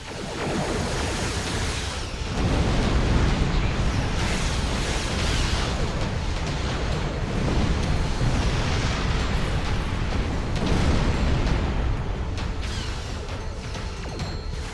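Starship weapons fire and explosions from the Star Trek Online space game form a dense, loud roar of blasts and rumbling that swells and persists for the whole stretch, with no speech over it.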